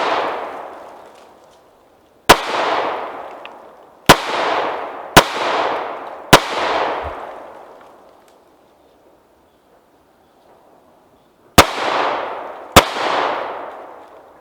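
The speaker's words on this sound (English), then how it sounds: "I'm gonna take some shots and then I'll do some close-up shooting" Six sharp gunshots on an outdoor 100-yard gun range, each a loud, close crack followed by a long echoing tail, spaced irregularly with a quiet gap before the final two.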